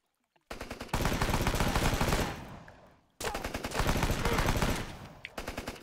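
Sustained automatic gunfire from enemies in Rambo: The Video Game, two long rattling bursts split by a brief silence, loud and close, with a final short burst at the end.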